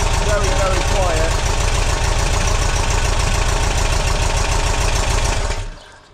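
An engine fitted with a Vintage Speed exhaust idles on its first start, a steady, close, even rumble with faint knocking that runs unchanged before the engine is switched off and falls silent.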